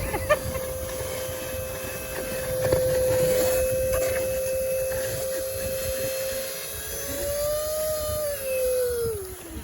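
A shop vac sucking up storm water, a steady close whining roar over rough broadband noise, its pitch sagging and then rising near the end.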